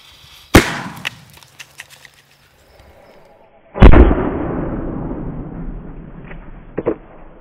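A dummy RPG-2 rocket is fired in a test outdoors: a sharp bang, then a loud blast that rolls off into a fading rumble, with a few faint clicks and knocks around it.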